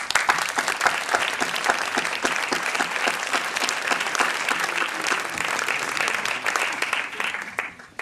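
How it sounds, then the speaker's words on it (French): A crowd applauds at the inauguration of the Sainte Ursule school gymnasium, with loud, dense, continuous clapping that stays even throughout and fades out at the very end. "Nous pouvons applaudir."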